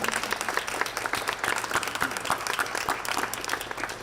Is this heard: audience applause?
yes